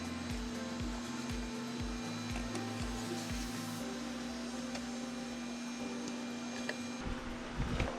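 An old 3D printer runs steadily, giving off a quiet, continuous mechanical hum with rhythmic stepping motor pulses and occasional small clicks.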